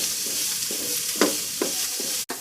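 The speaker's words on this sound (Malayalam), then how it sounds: "അപ്പോൾ എണ്ണ ചൂടായി വന്നാൽ നമുക്ക് അതിലേക്ക് ഉള്ളിടാം. അത് നമുക്കൊന്ന് വഴറ്റാം." Onions sautéing in hot oil in a pan for noodles, giving a steady close sizzle with a few louder scrapes of a spatula stirring them, and no talking.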